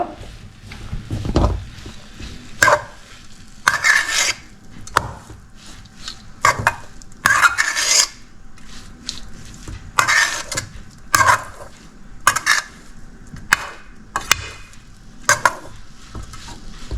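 A spoon stirs grated coconut and coconut milk into a Kerala-style spinach curry in a pot, making irregular scraping and clinking knocks against the pan, loud and close, with quiet gaps between strokes.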